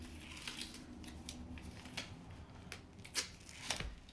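Paper being cut with a large pair of scissors at a craft table, a few quiet snips and rustles spaced irregularly, close and soft, with no one talking.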